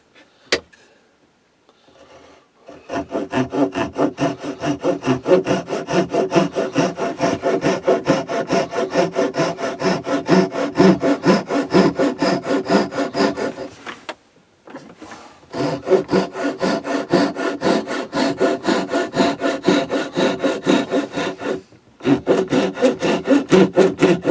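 A hand saw cuts freehand through wood in fast, steady rhythmic strokes, loud and close, running in long stretches broken by two brief pauses.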